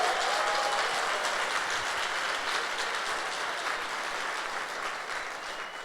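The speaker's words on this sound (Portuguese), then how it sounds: "Dá um aplauso aí ao Senhor." A church congregation at a Sunday service applauding, a steady dense wash of clapping from many hands that holds throughout and fades slightly at the end.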